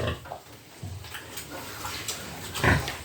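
Pigs and piglets on a small farm give soft, low grunts against a quiet, breathy background, ending with a louder snort near the close.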